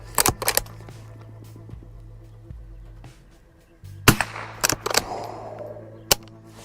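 Sharp rifle shots from a rifle fitted with a UUQ 3-9x32mm scope, about five cracks in loose pairs and singles with short echoing tails, over a low steady hum outdoors.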